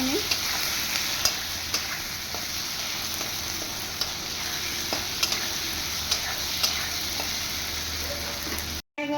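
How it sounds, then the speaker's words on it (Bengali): Potatoes fry and get stirred in a wok, a steady close sizzle with repeated scrapes and clinks of the spatula throughout, no talk, cutting off abruptly near the end. "এখন এগুলোর সাথে সাথে এই আলুটাও দিয়ে দিলাম, আলুটা যাতে ভাজা হয়"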